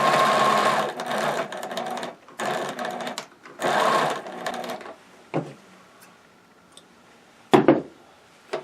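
A domestic sewing machine stitches stockings in loud bursts, three long runs of rapid whirring separated by short pauses, then falls to quieter handling clicks and a couple of sharp knocks.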